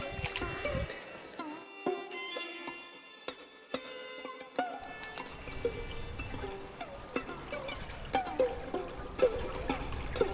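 Gentle trickling and pouring water runs steadily throughout, with soft splashes and small clicks over a continuous watery wash.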